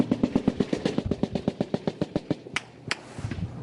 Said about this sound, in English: The gunshots are getting ever closer.